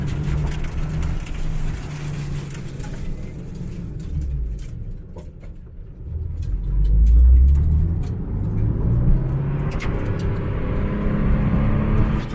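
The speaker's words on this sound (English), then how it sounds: "do a quick little drive in this thing." A car on old gravel tires and without wheel weights drives after a wash, its engine rumbling low and swelling midway, with rolling road noise and scattered ticks and crunches throughout; no talking.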